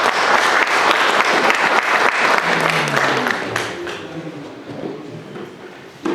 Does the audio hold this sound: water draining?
no